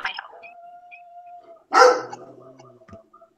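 A dog yelps and barks once at close range, with a thin tonal whine beforehand and quieter indoor noises after, heard alone without talk.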